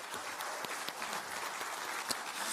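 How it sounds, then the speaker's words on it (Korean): Audience applause at a political party event welcoming newly elected local leaders: a quiet, even patter of many hands clapping from a distant crowd, sustained throughout. "박수 한번 칠까요?"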